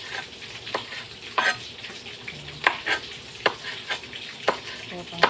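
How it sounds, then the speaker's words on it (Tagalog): Steady hiss of food frying in a pan, with sharp spatters and occasional clinks of a utensil stirring, close and continuous. "Habang tayo nagpiprito."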